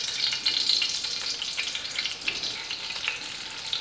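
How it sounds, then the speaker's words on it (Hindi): Ghee sizzles and fries steadily in a karahi for Peshawri kabab karahi at a Pakistani street food stall, a continuous bright crackle without talk. "चलिए हमारे साथ सबसे पहले हम इसमें डालेंगे घी।"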